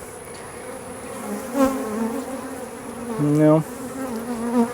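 Honey bees buzzing around an open north hive, a continuous close drone with individual bees passing near the microphone as rising and falling hums, and a brief spoken word partway through.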